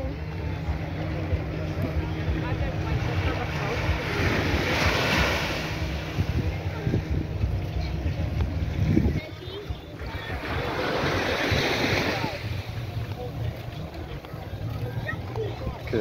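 Surf washing ashore at Pebbles Beach on Carlisle Bay, Barbados, a steady wash with two swelling surges, heard through wind buffeting the microphone and a continuous low background rumble.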